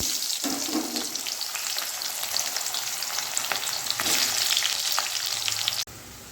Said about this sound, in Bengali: পেঁয়াজটাকে একদম ব্রাউন কালারে করে আমি ভেজে নেব